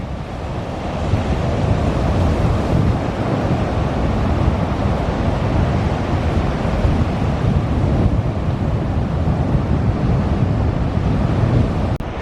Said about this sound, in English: Got almost a tide pool situation here with a little bit of a sandbar, and then the beautiful ocean coming in.